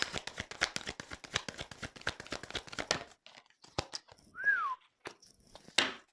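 After a burst of crinkling and card-shuffling rustles, a person gives a single short falling whistle, followed by a few light taps.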